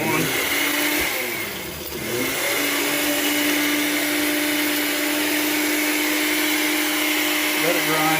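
A NutriBullet blender grinds dried hot peppers into powder with a loud, steady motor whine that dips briefly and then holds a constant high pitch, close up, with a voice speaking over it.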